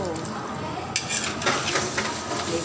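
A spoon stirs chicken pochero in a pot, soft scraping and clinking under a faint sizzle, with light speech nearby over the short stretch.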